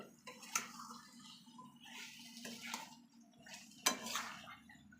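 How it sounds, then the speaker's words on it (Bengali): Spiced food stirred in a cooking pot, with a few distinct scrapes and clinks of a utensil against metal standing out over quieter shuffling and soft background noise; close and moderately loud, no talking. "এবার একটু নাড়াচাড়া করতে হবে।"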